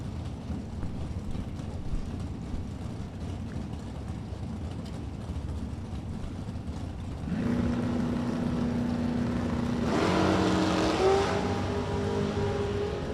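Drag racing cars run down the strip at an outdoor event, a distant engine rumble building then surging louder partway through as the cars launch and pull away, with no talk over it.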